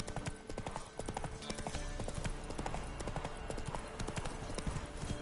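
Roach the horse gallops in The Witcher 3, steady rapid hoofbeats drumming without pause, close and clear, with a faint voice under them.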